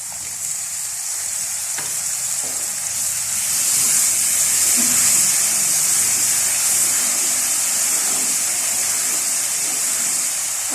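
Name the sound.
masala spices frying in a pan with added water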